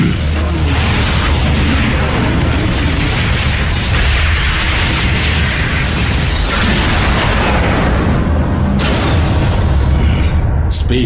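Loud, rumbling explosions on a space bridge in an animated series, with sharp blasts and heavy low booms, followed by crackling debris and mechanical noise.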